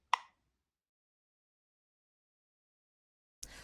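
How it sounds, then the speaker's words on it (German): A Datacolor ColorReader colour measuring device gives one short, soft plop as its button is pressed, followed by silence and then a second brief soft sound at the end. "indem wir an die geeignete Stelle den Color Reader flach auflegen und auf den Knopf drücken"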